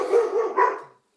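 Puppies bark during a planning commission meeting, two or three loud, close barks that run together and then break off into silence.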